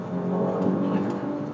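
A Mercedes-Benz E400 coupe accelerates with a steady, close engine drone that holds an even, moderately loud level for the whole short moment.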